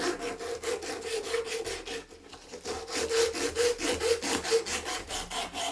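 A wooden napkin ring held in a wooden clamp is hand sanded, steady rhythmic back-and-forth rasping strokes, close and fairly quiet, with a short pause partway through before the strokes resume.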